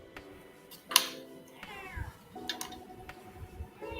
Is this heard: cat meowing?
yes